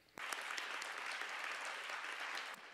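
Delegates applauding at a United Nations session after a speech on police brutality and migrants' rights, a sustained wash of clapping from a large audience that starts abruptly and holds steady, moderately distant.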